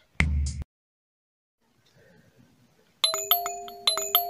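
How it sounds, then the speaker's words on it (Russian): A cartoon doorbell rings with a clear, close, two-tone ding-dong chime, repeated in the final second after a short thump and a quiet pause. "О, колокольчик."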